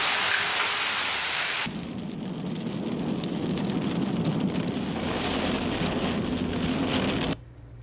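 Heavy rain from a thunderstorm with strong wind in São Paulo, a dense, loud, continuous roar of downpour with gusty rumbling that cuts off abruptly near the end, no voices.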